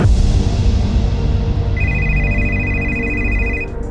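A mobile phone rings with a steady electronic tone over a loud, busy low background, starting partway through and lasting about two seconds.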